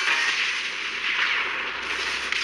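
Cartoon gunfire in a cat-versus-zombies animation, a steady loud crackling burst that runs continuously for a couple of seconds with no clear gaps, heard alone.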